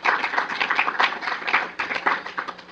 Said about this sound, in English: So let's give the staffs a round of applause for pulling this all together.